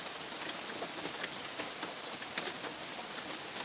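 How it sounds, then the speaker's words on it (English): Steady rain patters on a surface, a soft continuous hiss with occasional heavier drops, faint and unbroken. "when's the rain going to stop?"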